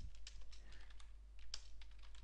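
Rapid typing on a computer keyboard, a steady run of light close clicks with one sharper keystroke partway through, no voices.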